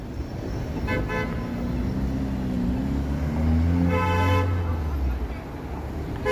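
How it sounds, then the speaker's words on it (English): Car horns honking on a Toronto street on a cold Friday night, a long blaring honk with a few shorter toots over steady traffic noise, fairly loud and close. "When I hear someone honk"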